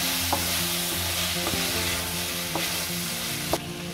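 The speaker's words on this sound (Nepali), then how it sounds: "यो टमाटर राखेपछि मजाले भुट्नु होला। यो मासु पनि सँगसँगै भुटिन्छ।" Meat frying in a pan with chopped tomato, chili and garam masala, sizzling steadily up close while a spoon stirs and scrapes now and then, with no voices.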